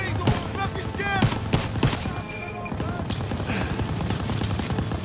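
Machine gun fire and scattered gunshots in the Call of Duty WWII game, rapid bursts over a busy battle din, with a voice shouting over the shooting.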